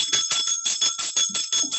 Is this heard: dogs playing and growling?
no